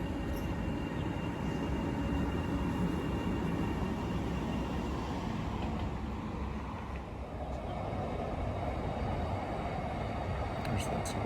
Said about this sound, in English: There's that suburban train again.